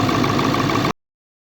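A truck engine that has sat unused for a couple of days runs with a steady, loud, rumbling idle for about a second before cutting off abruptly into silence.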